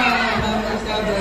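Dense crowd chatter fills the inside of the Ram Janaki temple during a Dussehra fair, a steady, close wash of many overlapping voices with no pauses.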